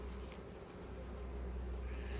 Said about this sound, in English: look at all these bees all clustered